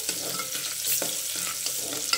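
Chopped onion browns in a pan for chicken rassa, a close, steady sizzle broken by the scrape and clatter of repeated stirring strokes.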